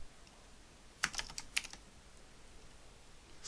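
A handful of quick keystrokes on a computer keyboard while entering code in a Unity tutorial, a short cluster of crisp clicks standing out against quiet room tone.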